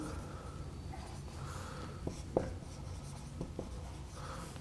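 A math solution about the prime factorization of a denominator is written on a board, giving soft continuous scratching with a few sharper taps and strokes. It is close and moderately loud, and nobody speaks.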